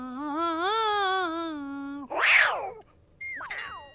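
A person imitates a cat with a long, wavering, meow-like vocal sound. A short, harsh yowl follows after a brief pause, then a rising squeak. All are loud and close, with no other talk.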